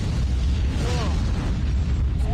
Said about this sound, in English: That's a double nuke for me.